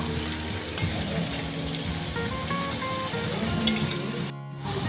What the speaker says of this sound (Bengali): কেটে পরিষ্কার করে ধুয়ে রাখা আলু আর তরমুজের সাদা অংশ দিয়ে দিলাম এবার সব কিছু খুব ভালো করে নেড়ে নেবো